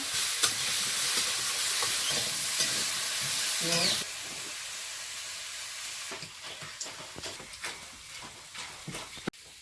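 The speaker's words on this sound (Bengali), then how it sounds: "বড় আলুটা ভালো করে ভেজে নিয়েছি" Large potatoes frying in a pan, loud broad sizzling with stirring clatter for the first few seconds, then quieter frying with intermittent clinks and a sharp knock near the end, no voices.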